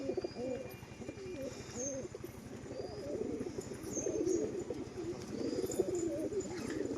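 Rampuri pigeons cooing close by in a steady run of soft, throaty, rolling coos, with faint higher bird chirps in the background and no talking.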